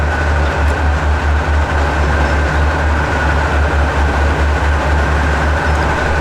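A train rolls steadily in the video game Transport Fever 2, a continuous loud rumble with a rhythmic clatter of wheels over rail joints and a faint whine, no voices.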